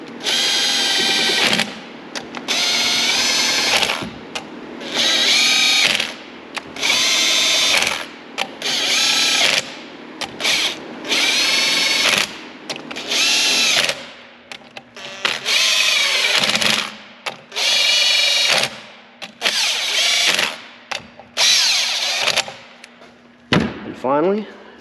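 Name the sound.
impact wrench running bolts down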